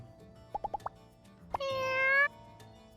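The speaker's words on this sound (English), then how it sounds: "Ditzy pet cat." Pet cat in the video game My Time at Sandrock gives a few short plopping game chimes, then a clear, drawn-out meow, up close with no talk over it.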